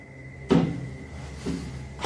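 Loud bangs echo in a hallway, two sharp knocks about a second apart followed by a third starting, each a hard thud with a short ringing tail over quiet background hum.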